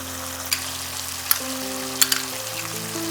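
Tomato sauce goes into a frying almond and poppy seed masala for chicken roast, producing a steady hiss with a few sharp pops and crackles over background music.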